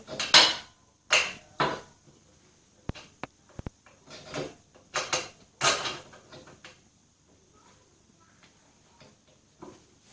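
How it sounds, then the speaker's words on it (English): Metal knocks and clinks as a bolt is fitted during a Bambino rebuild, a run of sharp taps, clunks and scrapes coming in uneven bursts with short quiet gaps between them, close and fairly loud. "Once you've got it positioned, you need to put the bolt in."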